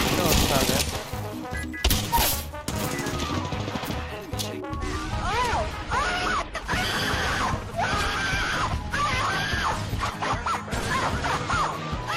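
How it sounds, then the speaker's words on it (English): Chaotic Apex Legends firefight with bursts of gunfire, crashes and frantic game effects layered densely throughout, while players talk and shout over the din. "I'm taking fire from Nice."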